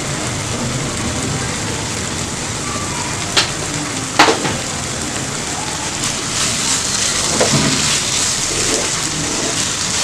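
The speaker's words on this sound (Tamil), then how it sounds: "இது நல்லா வதங்கட்டும்." Mutton masala and onions sautéing in oil for mutton sukka, a steady broadband sizzle with a few louder pops and crackles, close and continuous throughout.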